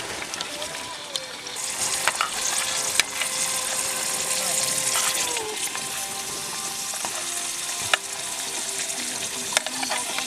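Salted fish fries in a pan over an outdoor backyard kitchen fire, giving a steady loud sizzle with occasional clicks and stirring knocks throughout.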